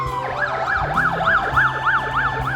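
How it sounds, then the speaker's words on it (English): Emergency vehicle siren heard from an apartment in Melbourne, loud and close with a rapid rising-and-falling wail repeating steadily over rumbling traffic. "there's a lot of like those, you know, emergency siren lights thingy going on like this"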